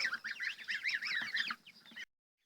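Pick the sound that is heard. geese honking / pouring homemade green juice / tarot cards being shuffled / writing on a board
geese honking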